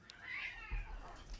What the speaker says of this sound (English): That's a kitty cat.